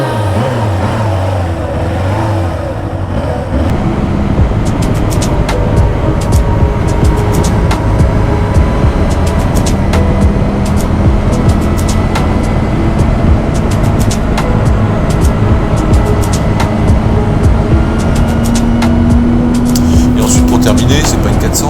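A TVS Apache 310 RR single-cylinder motorcycle rides along, its engine a steady, loud drone with rising pitch as it accelerates, wind and road noise constant throughout.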